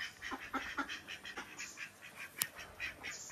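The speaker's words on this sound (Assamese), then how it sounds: "এইফালে হাঁহকেইটা দেখিছেনে ইহঁতে অকল এনেই ঘূৰি ফুৰিব চিঞৰি খুব হাকিব" Ducks wander a home garden early in the morning, giving a quick series of soft quacks with one sharper honk-like call, faint and fairly distant, with no talking.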